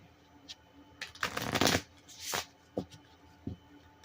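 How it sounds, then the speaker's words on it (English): Oracle cards are shuffled by hand in a few quick riffling bursts, the longest about half a second, with softer taps between, close and clear in a quiet room. "Oh, gotta shuffle these."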